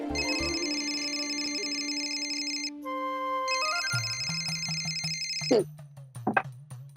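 An electronic mobile phone ringtone plays a repeating tonal melody, then cuts off as the call is answered, followed by a few clicks and handling noises.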